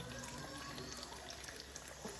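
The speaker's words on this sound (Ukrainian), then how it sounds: "А ще у Шотландії дуже чиста вода і ми п'ємо її з крана." Tap water runs from a faucet in a Scottish home in a steady, hissing stream. The flow is continuous and fairly quiet.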